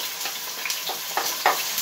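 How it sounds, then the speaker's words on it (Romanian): Onion sizzling in hot oil in a cast iron pot while cooking a pork and vegetable stew, a steady close crackle with a few louder bursts of spitting and stirring scrapes, no voices. "Uleiul nostru tocmai ce s-a încins, acum o să adăugăm fain frumos ceapa."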